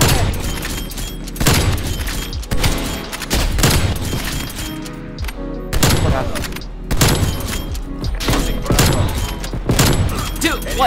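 Call of Duty Cold War multiplayer match with loud gunfire, sniper rifle shots, sharp cracks and booms repeating in rapid bursts amid continuous battle noise, with a player talking over it.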